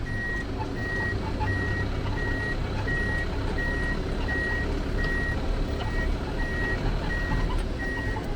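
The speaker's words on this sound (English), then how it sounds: "Reverse gives you an indication in the cab." A Mitsubishi FE84 truck's in-cab reverse warning beeps repeat in a steady, evenly spaced high tone over a loud idling diesel engine rumble, with no talking.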